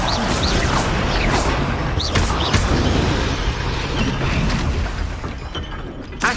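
Confringo fire-blast spells are cast repeatedly in Hogwarts Legacy, making booming explosions over a dense, continuous roar of combat noise that stays loud throughout.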